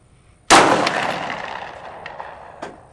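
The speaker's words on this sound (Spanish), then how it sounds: "Y en vez de desarmar, realizamos un disparo" A single sharp, loud gunshot from a Glock pistol rings out close by, followed by a long reverberant decay and a faint second metallic knock a couple of seconds later.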